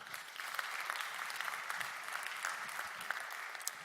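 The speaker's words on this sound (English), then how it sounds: "A round of applause." Steady applause from a conference crowd at a tourism forum, many hands clapping densely and continuously at an even level throughout.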